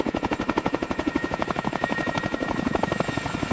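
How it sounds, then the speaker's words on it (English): Boeing Chinook CH-47 twin-rotor helicopter hovering nearby, a loud, rapid rhythmic blade thump pulsing steadily over a turbine whine, with no voices. "The Chinook's advanced flight computers maintain a perfect 50-foot hover, completely negating the turbulent crosswind."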